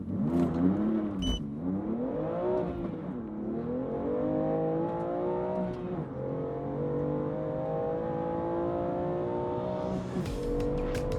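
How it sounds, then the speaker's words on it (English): A BMW M2 Competition with a custom exhaust revs up and down repeatedly, its deep, throaty note rising and falling in pitch as it accelerates, loud and close. "Custom exhaust."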